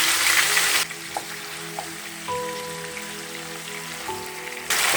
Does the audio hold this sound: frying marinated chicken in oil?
yes